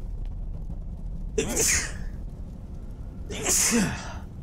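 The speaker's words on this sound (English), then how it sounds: "I sneezed." Two quick sneezes from a nearby person, about two seconds apart, each a sharp breathy burst against a quiet background.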